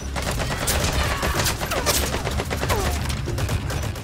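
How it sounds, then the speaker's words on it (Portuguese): Rapid bursts of gunfire from Metal Gear Solid V: The Phantom Pain crackle continuously, dense overlapping shots like a sustained firefight, loud and close throughout. "Vamos tacar agora tiro pra todo lado"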